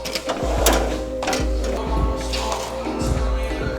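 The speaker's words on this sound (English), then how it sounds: "Hopefully it wants to print straight away because sometimes my printer just hates its life." An office printer at a performance shop runs a job card, with rapid rhythmic mechanical clicks and whirring feeding pulses, close and fairly loud, while a person speaks briefly.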